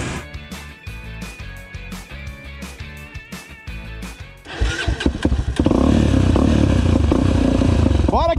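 A Honda XRE300 motorcycle on a trail outing starts up with a clattering crank, then its engine catches and revs hard into a loud, steady roar close by.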